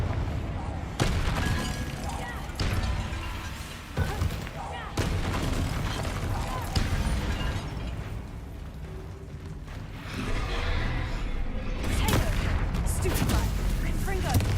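Confringo blasting spells are cast again and again in Hogwarts Legacy, sharp booming impacts at irregular intervals amid game music and ambience, with a person talking over the action.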